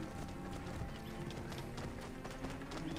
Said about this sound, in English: Apparently Roach is faster than your puny zebra horse.